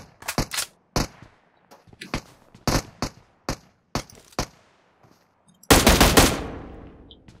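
Game gunfire from the mobile battle-royale PUBG Mobile: several sharp single shots spaced irregularly, then a dense, loud automatic burst near the end, with no talking.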